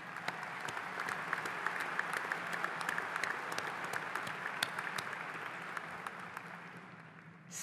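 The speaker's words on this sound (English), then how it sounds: "Please stand and also give them a round of applause for their recognition." Sustained applause from a university commencement audience at a winter graduation ceremony, steady dense clapping filling a large hall for several seconds before tapering slightly at the end, with no voices over it.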